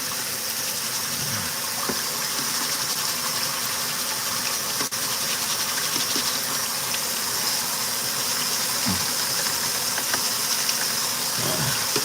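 Vintage hats get rinsed under a running tap, a steady rushing gush of water that carries on without a break, with faint occasional knocks in the background.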